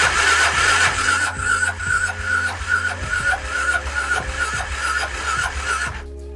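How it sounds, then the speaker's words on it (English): A 1996 Suzuki DR350 motorcycle engine cranks repeatedly after storage without catching, a steady churning starter rhythm lasting about six seconds before cutting off. "First, I'll try and start it up to get a baseline of where the bike is at."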